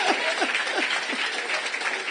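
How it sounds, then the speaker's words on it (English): At a startup accelerator demo day, the crowd breaks into steady, even applause, a continuous rush of many hands clapping, with a few faint voices and whoops mixed in underneath. "You can clap."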